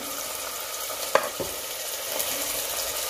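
Vegetables and chicken for a soup sauté in a small pot with a continuous crackling sizzle, broken by one sharp utensil tap and a few soft stirring scrapes.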